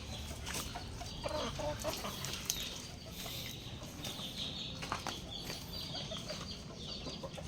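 Chickens cluck steadily in a backyard breeding pen, a dense, continuous layer of overlapping clucks and soft calls with occasional wing flaps, moderately close and unbroken throughout.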